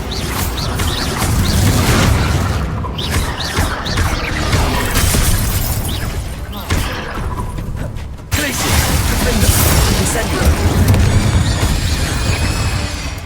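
Bombarda blasting spell in Hogwarts Legacy: a loud booming blast followed by crashing, shattering debris and grinding mechanical rumbles, continuing densely for several seconds with a sharp renewed burst midway.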